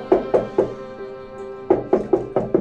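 Knuckles rap on a door indoors in two separate bursts of about three to four solid, hollow knocks each, with a faint steady hum between them.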